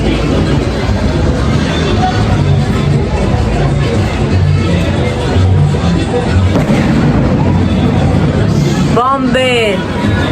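Christmas fireworks in Medellín, Colombia, pop and boom in a dense continuous barrage under crowd babble and nearby talk, with a rising whistling streak near the end.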